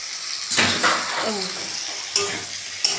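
Fish pieces being sautéed in a spicy masala in a pan, an even sizzle under spoon stirring with a few sharp metallic clicks, close and steady.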